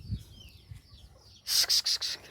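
After a quiet stretch, a hen lets out four loud, sharp clucking squawks in quick succession, close by.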